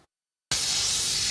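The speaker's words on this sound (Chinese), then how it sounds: "提防身的喷雾轻轻啊刺落，气体水喷出来" A self-defense pepper spray canister fires after a moment of silence, starting abruptly and then holding a loud, close, continuous hiss.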